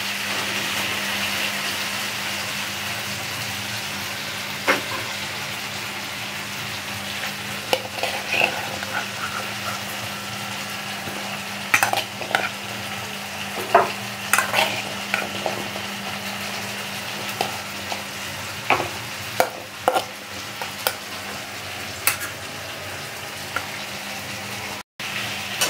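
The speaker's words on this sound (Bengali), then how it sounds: "এখানে আমি নাড়ছি সমানে বলে গ্যাসের ফ্লেমটা আমি হাই করে দিয়েছি।" Potato, pointed gourd and shrimp fry in a pan over a high gas flame, with a low steady sizzle and scattered scraping clicks as a spatula keeps stirring them.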